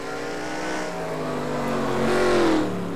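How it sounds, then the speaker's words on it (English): Ford V8 Pro Series race cars at South Boston speedway roar past with a sustained engine drone that swells and rises in pitch near the end as a car accelerates close by. "Richard Johnson better hurry up and try to catch that 88 car"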